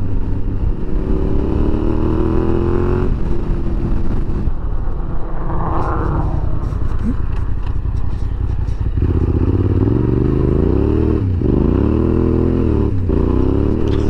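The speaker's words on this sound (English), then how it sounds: "This engine is so good that you can kind of just leave it in third" A Yamaha Tenere 700 motorcycle engine drones steadily while riding on a rough road, with a rising and falling pitch as it pulls through the gears under constant wind rumble and rattling, loud and close with no speech.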